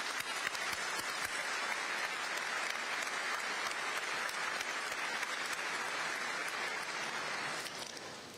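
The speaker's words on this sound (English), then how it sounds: "So how about a round of applause for everybody that helped you get here?" A large audience claps steadily at a Texas DPS recruit graduation ceremony, a dense, sustained wash of applause lasting several seconds before beginning to fade at the end.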